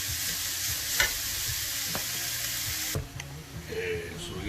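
Steak strips for Philly cheesesteak stuffed bell peppers sear in a pan, sizzling with a constant hiss broken by a few knocks and scrapes of stirring, with the sizzle easing somewhat near the end.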